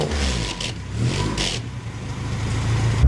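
A 30-year-old Vauxhall Nova's engine revs and pulls away with a loud, close mid-pitched drone that rises and dips over a few seconds, with no talking.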